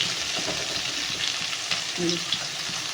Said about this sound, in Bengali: সোয়াবিন আলুটা মোটামুটি ভাজা হয়ে গেছে।